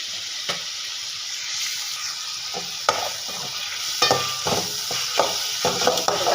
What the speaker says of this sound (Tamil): தக்காளி நல்லா வதங்கி வரட்டுங்க